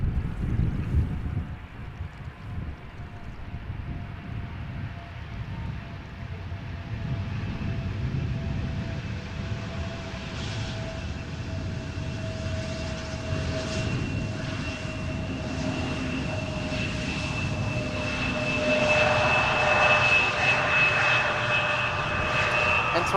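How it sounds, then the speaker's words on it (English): An Embraer 170 jet touching down at Amsterdam Schiphol after arriving from Lyon, a steady distant engine roar that swells and brightens toward the end as the aircraft nears, with some wind noise. "Embraer 170 arriving from Lyon. Flight 1794, touching down after an hour and 22 minutes of flight."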